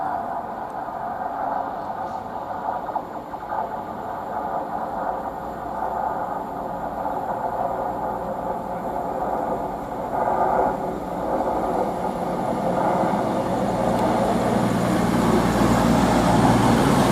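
Train 221122, running from Manchester Piccadilly to Bournemouth, arrives at Banbury station with a continuous rumble that slowly builds as it draws closer, set against background traffic-like noise.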